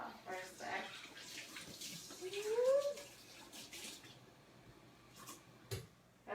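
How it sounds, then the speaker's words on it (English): Tap water runs steadily over hands being rinsed at a kitchen sink while cooking buffalo cauliflower, a moderate wash with a voice speaking briefly over it. "let's rinse my hands off for a sec"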